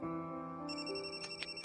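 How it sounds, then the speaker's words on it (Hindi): A phone rings with a tonal electronic ringtone, a sustained melodic pattern of pitched notes with short pulses toward the end, fairly quiet. "शैतान का नाम लिया और फोन आया।"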